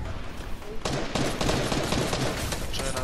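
Rapid bursts of gunfire from a Fortnite match, dense and continuous over a few seconds with sharp repeated cracks, loud and close, mixed with game noise and possible background voice chat.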